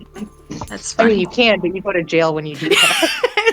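A dog whimpers and yips in the background of a casual conversation, its high, wavering whines mixed under steady talk and light laughter.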